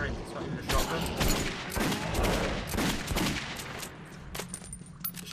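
Gunfire fills a Metro 2033 Redux firefight as a weak pellet gun shooting small bearings fires repeatedly, dense overlapping pops and cracks under continuous game noise and crackle.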